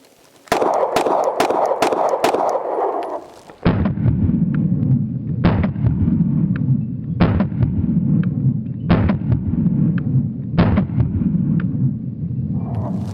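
Gunfire from a Monsoon Tactical Lucky 7's pistol with Holosun SCS sight and Timney Alpha trigger shooting 147-grain rounds, a quick string of sharp shots followed by five loud, evenly spaced reports echoing outdoors.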